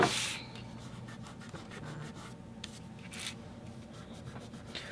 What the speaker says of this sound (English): make sure you rub off any adhesive that's stuck still on the jeeping